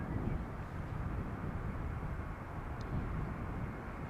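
A Finnair airliner arriving from Helsinki at Amsterdam Schiphol gives a low, steady rumble of engine noise, faint and distant, with wind-like hiss and no voices.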